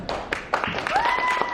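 Applause from the audience at the World Dancer Championship final rises in scattered, uneven claps that quickly thicken, with a voice speaking over them.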